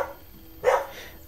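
A pet dog gives one short, muffled bark indoors, fairly quiet and somewhat distant, over low background noise.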